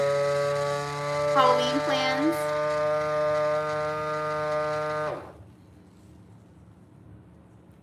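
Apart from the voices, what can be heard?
vacuum sealer running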